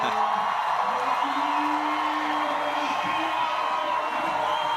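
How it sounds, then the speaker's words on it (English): A Czech crowd at a women's bouldering final in Prague keeps up a steady, dense roar of shouting and cheering, with one sustained whoop-like cry rising above the noise. "Czech crowd does not need much encouragement to start shouting."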